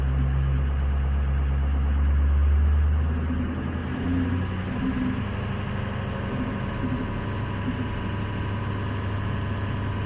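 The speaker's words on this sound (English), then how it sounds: "We'll give it just a little bit of throttle" A car engine in gear with a little throttle and load applied, producing a steady, loud low rumble that swells slightly early on and then holds even.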